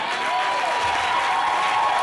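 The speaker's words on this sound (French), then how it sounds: "Applaudis encore très fort pour les rois" Church congregation applauding during a French-language worship service, with sustained, fairly loud clapping and steady tonal music running underneath.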